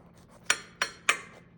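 Cutlery clinks on a dish while baked chili cheese rolls are cut open: three sharp, bright metallic taps spaced evenly and close up in an otherwise quiet kitchen.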